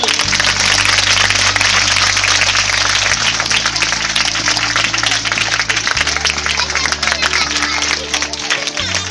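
Applause for six students who qualified, a crowd clapping steadily and loudly throughout, with a low sustained tone running under it.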